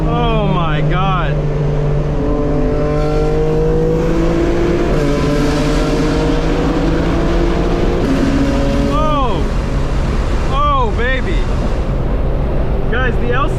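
A 2025 BMW M4 Competition LCI pulls hard on the road, its engine droning and rising through the gears with sharp shift blips and revs, loud and close, while a driver talks excitedly over it.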